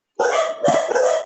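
Several dogs bark indoors in a quick burst, two or three loud overlapping barks following one another at close range over a short span, with no talking over them.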